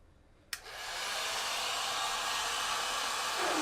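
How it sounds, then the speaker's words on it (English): A heat gun switches on with a click and settles into a steady rushing whoosh of hot air, close and constant, drying paint on a custom jacket. "I'm gonna use a heat gun, but beware, don't burn your jacket."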